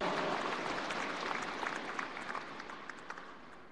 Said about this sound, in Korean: 뜨거운 박수로 맞이해 주십시오.